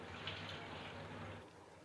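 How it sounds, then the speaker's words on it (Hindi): Water from a half glass poured into a pot of achar gosht, a spiced pickle-style meat curry, as it cooks: a steady, close rushing pour lasting under two seconds over a low continuous hum, with no talk. "मैंने ये आधा गिलास पानी का डाला है।"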